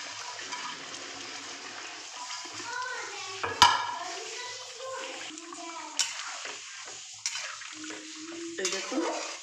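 Katla fish curry in mustard-poppy sauce simmers in a pan, soft bubbling and stirring with occasional clinks of a utensil, while someone talks over it.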